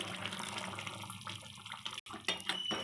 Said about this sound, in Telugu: మనకు దోసకాయ ముక్క ఉడకాలి కదా, అందుకని కొన్ని నీళ్ళు పోసుకున్నాను